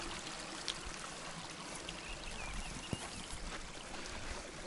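A small forest brook flows steadily, a faint, continuous trickle and rush of water heard at a distance, with no voices.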